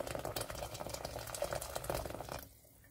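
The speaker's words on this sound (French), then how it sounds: "Maintenant, je mets de l'eau chaude" Hot water poured into a cooking pot while making Malagasy chicken romazava, a steady splashing, bubbling pour close by that runs continuously and then stops abruptly near the end.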